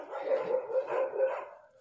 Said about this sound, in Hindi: कुत्तों की आवाजें आती है बहुत जोर की